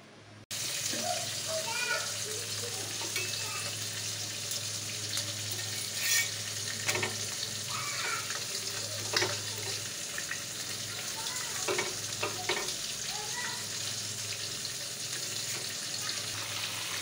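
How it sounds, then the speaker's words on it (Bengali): Fish frying in a home kitchen pan gives a soft, continuous sizzle with scattered crackles and pops, moderately quiet, joined by occasional clinks and faint background voices. "এদিকে মাছ ভাজা হয়ে যাচ্ছে"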